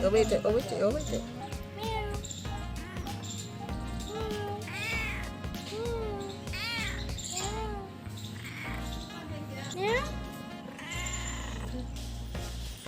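A grown pet cat meows repeatedly indoors, several rising and falling cries spread across the stretch, close and fairly clear over a low steady hum.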